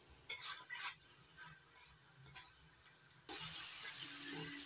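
Prawns frying in oil being stirred in a pan, with several soft scraping and clinking stirs at an irregular pace, then a steady sizzle that grows louder and fills the last second and a half, close up and without speech.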